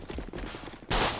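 DMR rifle gunfire in a shooter video game: a rapid string of sharp shots in quick rhythm, followed by a louder, brighter blast near the end.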